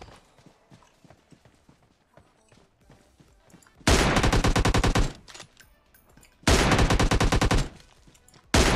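Two long bursts of rapid automatic gunfire in PUBG Mobile, loud and close, each lasting about a second, with a third burst starting at the end and quieter rustling and footsteps between them.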